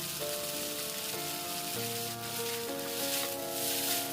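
Stir-fried pink rice noodles with chives and bean sprouts sizzle steadily in a hot pan, a continuous close hiss under melodic background music.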